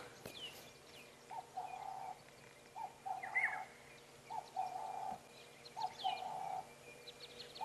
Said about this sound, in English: You can hear that liquid chortle of the black-headed oriole.